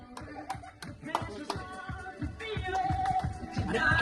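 Hands clapping for football players arriving at a picnic spot in Lonavala, a brisk uneven run of nearby claps mixed with voices and chatter, growing busier toward the end.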